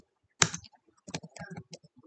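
Computer keyboard typing while entering a command in MATLAB: a sharp first keystroke followed by a quick run of lighter clicks, close and fairly quiet, with no talking.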